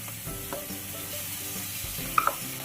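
Chopped tomato sautés with finely chopped onion in a pan for egg bhurji, giving a soft, steady sizzle with light stirring scrapes, no talk.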